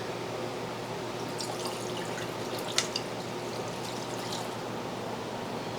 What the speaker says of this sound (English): And I'll add some water and rinse this.